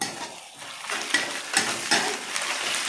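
Garlic hits hot oil in a home kitchen pan, setting off a close, rising sizzle with scraping stirs and a few sharp spoon-on-metal clinks, and no one talks over it.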